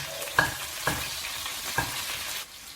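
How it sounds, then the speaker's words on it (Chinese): Star anise, Sichuan peppercorns, ginger slices and scallion stir-fried in a little oil in a wok, a steady close sizzle broken by a few sharp scraping clacks of the spatula. "锅中留底油，放入八角、花椒、姜片、葱，"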